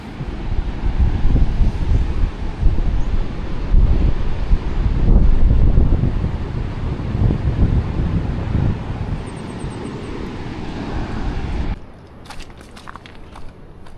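Strong wind buffets the microphone on a mountaintop above a beach with large waves, loud rumbling gusts swelling and easing for most of the stretch before suddenly dropping to a quieter, calmer background near the end.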